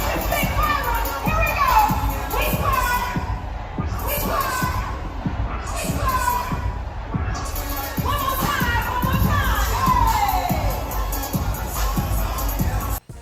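A large outdoor crowd at a Harris political rally in Atlanta, a continuous dense roar of cheering and shouting voices with pulsing chants and overlapping calls, loud and sustained throughout.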